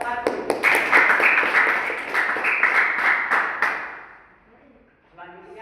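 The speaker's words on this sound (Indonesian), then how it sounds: "Tepuk tangan untuk kelompok 1." Applause from a classroom audience for a student group that has just presented at a teacher-training session, with dense clapping for about four seconds before fading out.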